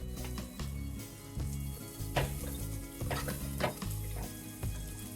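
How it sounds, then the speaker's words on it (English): Garlic, onion and grated ginger with a bay leaf and crushed pepper sizzle steadily in a soup pot, with occasional scrapes and clinks of stirring over the continuous frying hiss. "And saute this until the onion gets a little translucent."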